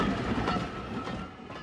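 A train on the Severn Valley railway line rumbles past with a steady, close clickety-clack of wheels on track, a dense broadband roar that holds for under two seconds.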